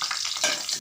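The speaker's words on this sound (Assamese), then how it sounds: "এতিয়া মই আগতে মাছখিনি ফ্ৰাই কৰি ল'ম" Fish pieces fry in hot oil for a mustard-tomato fish curry, giving a close, continuous hissing sizzle with no voices over it.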